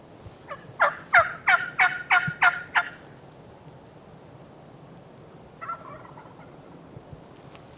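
Wild turkey gobbling on a distant ridge, a rapid rattling burst of about seven notes, followed a few seconds later by a fainter, shorter gobble, both sounding far off over quiet background.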